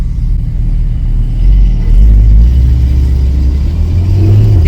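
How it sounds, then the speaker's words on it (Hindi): A Porsche 718 Spyder's engine rumbles loud and close, then rises in a deep rev toward the end, with no talking over it. "This is the Porsche 718 Spider."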